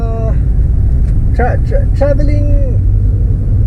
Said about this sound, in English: pardon me about the noise now, because I'm in a heavy traffic